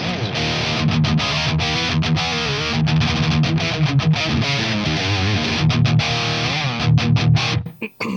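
A heavily distorted electric guitar through a Marshall JVM410H Joe Satriani amp profile plays chugging riffs with sustained chords and brief stops, loud and close, ending with a sudden cutoff.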